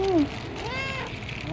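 A pet cat meowing for its cat food, a couple of short, rising and falling meows close by, with a person talking softly in between.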